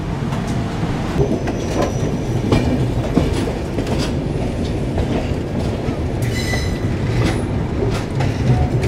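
The Tirupati to Chennai train, numbers 16057 and 16053, rolls into Chennai Central station with continuous rumbling, clattering wheels on the rails and occasional squeals, loud and close throughout.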